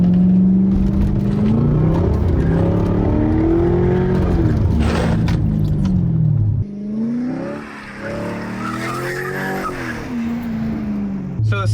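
A C5 Corvette revs and slides, its tires squealing in long, wavering howls as the engine rises and falls, loud and close, with a brief dip midway before the squeal returns.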